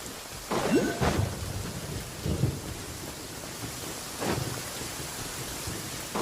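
Heavy rain hisses steadily while rolls of thunder rumble through it, several low booming surges rising and fading over the constant downpour. No one speaks.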